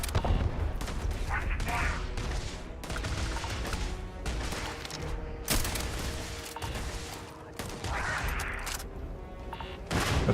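Turrets fire in Starfield, dense continuous bursts of gunfire with booming impacts, loud and sustained across the whole stretch, with talk faintly mixed in.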